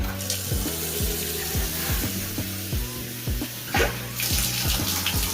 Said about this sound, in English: after the water's been running for about 5 to 10 minutes in a couple different spots